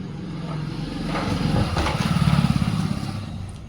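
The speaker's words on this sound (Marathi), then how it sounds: "त्यासाठी गाडींचा आवाज मध्ये मध्ये येत असतो" Vehicles, including a motorcycle, pass on the road right outside a roadside house; an engine drone swells as it comes close, peaks loudly and then begins to fade, with no talking.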